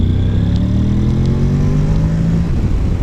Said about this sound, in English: just so I can then accelerate away and show you what this bike is like in sport mode